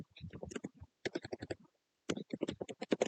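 Fingers type quickly on a computer keyboard, the crisp close key clicks coming in three short bursts separated by brief pauses.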